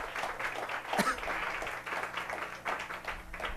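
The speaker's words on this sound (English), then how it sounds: "Round of applause for the bartender of the stars" Brief, fairly faint audience applause for a bartender guest on a comedy drinking show, scattered clapping over a few seconds with some voices mixed in.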